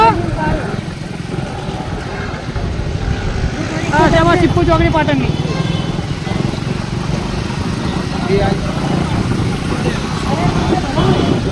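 A motorcycle engine drones steadily while riding, a constant low rumble throughout, with people talking over it.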